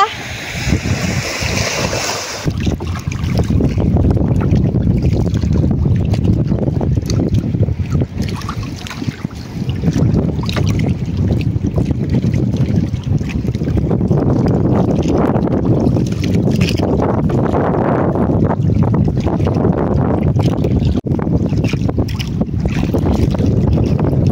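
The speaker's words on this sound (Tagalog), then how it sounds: "Medyo mahangin pa rin." Strong wind roars steadily across the microphone at sea after a typhoon, a constant loud rush with gusty buffeting and faint splashing underneath.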